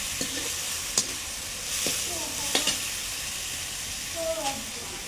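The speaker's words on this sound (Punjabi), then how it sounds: "ਤੜਕੇ ਨੂੰ ਚੰਗੀ ਤਰ੍ਹਾਂ ਆਪਾਂ ਭੁੰਨ ਲੈਣਾ ਵਾ 골ਡਨ ਬ੍ਰਾਊਨ ਕਰ ਲੈਣਾ" A tadka with chopped green chillies frying in hot oil for chickpea and bean sabzi gives a soft steady sizzle, broken by a few sharp clinks and scrapes of a spoon stirring in the pan.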